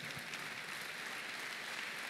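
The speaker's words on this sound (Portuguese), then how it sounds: "pode aplaudir o Senhor mais forte" Steady applause from a church congregation at a worship service, a dense continuous patter of clapping that fills the whole stretch without pause.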